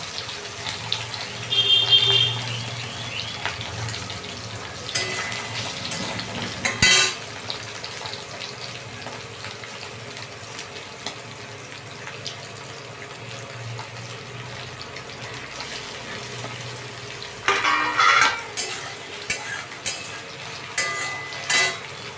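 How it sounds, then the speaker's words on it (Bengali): Egg and paneer frying gently in a pan, a soft continuous sizzle with occasional louder bursts of stirring and pan clatter, close and without talk. "হালকা করে ভেজে নেবো"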